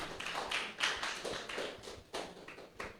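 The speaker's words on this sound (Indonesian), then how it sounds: "Boleh minta tepuk tangan sekali lagi buat para barista balada." Audience applause for baristas after a coffee-brewing demonstration at a cultural stage event, a dense steady patter of many hands clapping, swelling and dipping in waves with a few sharper bursts.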